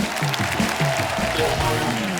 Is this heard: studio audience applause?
yes